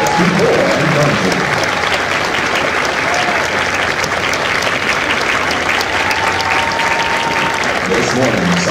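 At a Marine Corps recruit graduation ceremony, a large audience gives sustained, loud applause for Marine veterans, an even unbroken roar of clapping lasting the whole stretch.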